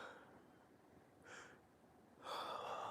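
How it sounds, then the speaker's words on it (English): During a quiet morning meditation, a person draws a short breath, then a longer, louder inhale that stretches into a yawn, close and soft. "I went to take a big breath and a yawn happened."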